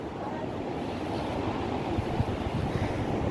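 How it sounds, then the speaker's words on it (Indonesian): Strong wind blows across a viewpoint at Orong Bukal in Lombok, a steady, loud roar of gusts buffeting the microphone with no one speaking. "Anginnya di sini bertiup kencang karena angin Australia ke sini"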